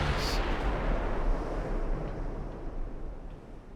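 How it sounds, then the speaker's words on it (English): Big naval guns fire in the warship game Ultimate Admiral: Dreadnoughts, giving a loud, deep booming rumble that rolls on and slowly fades. "Those are big guns."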